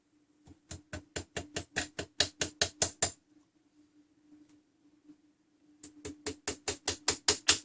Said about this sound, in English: There's a little hammer to give it a little tap.